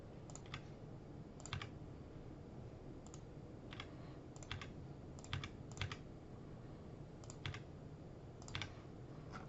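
Keys typed on a computer keyboard while formatting a Microsoft Word document, short clusters of crisp clicks at irregular intervals over a faint steady room hum, close and quiet.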